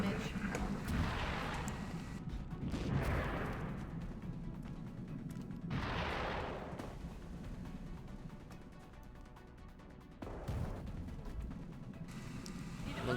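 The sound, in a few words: gunshot from video game XCOM Enemy Within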